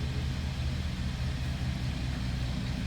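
An old 1949 Ford Custom Convertible engine runs nearby with a steady, even low rumble, no voices over it.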